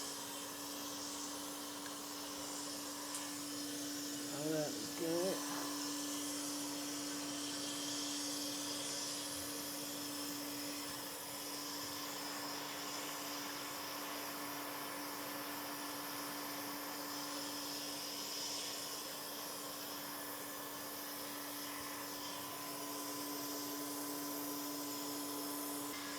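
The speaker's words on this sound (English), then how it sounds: "So I'm just going to put a vacuum on" A vacuum suction unit runs on a record cutting lathe as a steady, faint, continuous hum and hiss, with a brief voice heard early on.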